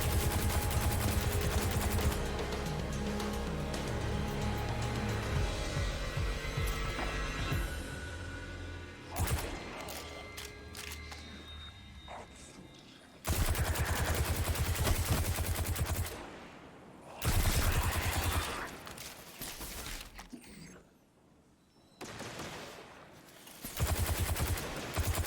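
Rapid, loud bursts of weapon fire from a grenade launcher in the Destiny 2 shooter, with dense sustained volleys followed by several separate explosive bursts broken by short gaps of quieter sound.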